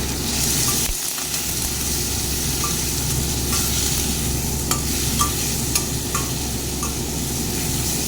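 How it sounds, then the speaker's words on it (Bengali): Potatoes fry with salt and turmeric in a pan, giving a loud, constant sizzle close up with occasional stirring scrapes and clicks over the dense hiss. "এটা দিয়ে এখন ভালো করে ভেজে নেব"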